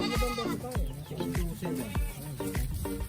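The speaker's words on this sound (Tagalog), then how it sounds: "Talaga nakakatakam yung mga kambing ni Sir Alex dito" Goats bleat repeatedly at a farm in Turo, Magalang, Pampanga, with several overlapping loud, close cries in irregular succession and no talk.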